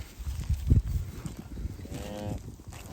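A cow on a farm with calves lets out a low, drawn-out moo close by, amid soft shuffling and other farm noises.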